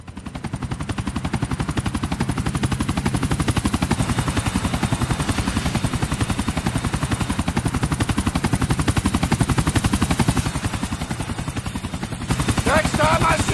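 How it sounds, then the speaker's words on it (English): Helicopter rotor thumping joined by rapid bursts of machine-gun fire during a GTA IV mission, loud and continuous throughout with a brief shift near the end. "Take out the chopper."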